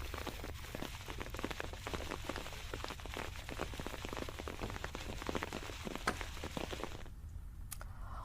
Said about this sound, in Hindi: छत्तीसगढ़ में मौसम का मिजाज बदला, कई जिलों में बारिश हो रही है।